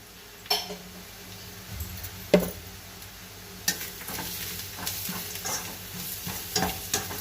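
Fish masala, coriander powder and turmeric frying in a pan while a spoon stirs them: a soft sizzle runs throughout, broken by several sharp scrapes and clinks of the spoon against the pan.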